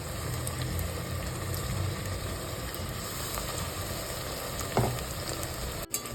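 A garlic, green chilli and coriander paste fries in a pan for mutton rasa, giving a steady close sizzle and crackle throughout, with a brief stir or clatter near the end.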